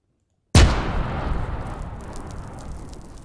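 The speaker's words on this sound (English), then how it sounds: "Fire in the hole, fire in the hole, fire in the hole." A breaching charge blows a wall in a sudden, very loud single blast after a moment of silence. Its rumbling roar and debris noise fade slowly over the next few seconds.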